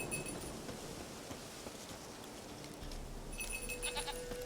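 A goat in The Witcher 3: Wild Hunt lets out a brief, faint bleat near the end, after a stretch of low ambient game noise with a light clink.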